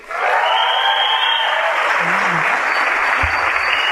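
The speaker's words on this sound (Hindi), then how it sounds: "आप लोग सब अपने लिए जोरदार तालियां बजाइए।" Loud, steady applause from a seminar audience clapping for themselves, rising quickly and holding at full strength as a thick wash of many hands.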